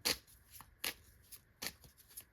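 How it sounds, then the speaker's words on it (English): Uno cards being shuffled by hand in quick riffling bursts, three main sharp flurries with lighter flicks between them, close and fairly quiet with no talking. "So we're going to get some Uno cards now"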